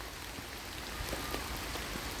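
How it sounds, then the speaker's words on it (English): Rain falls on a street in Wilton, Batley, UK, a soft continuous hiss with scattered faint drips, quiet and even. "I like the rain."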